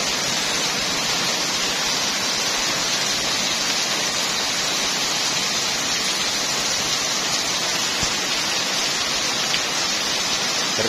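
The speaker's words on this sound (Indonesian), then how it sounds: "Deras banget ini hujannya." Heavy rain from a storm with strong wind pours down outside a house in an Indonesian village, a dense, even roar of falling water that holds constant throughout with no gaps.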